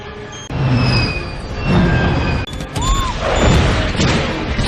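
Bomb blast in the Iron Man film: a loud, sustained rumbling explosion with crashing debris and whooshing movement, a brief dip midway, then renewed roaring turbulence.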